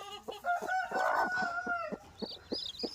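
A chicken clucks and calls close by in a short burst of squawks and clucks, with some faint higher bird chirps toward the end.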